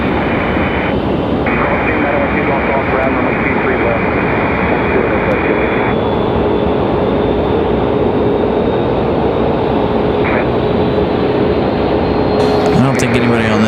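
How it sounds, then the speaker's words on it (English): Boeing 737 MAX jet engines spool up at an airport with a loud, steady roar that fills the clip alone, holding a constant drone with a rising whine near the end. "That angry sound from those Max"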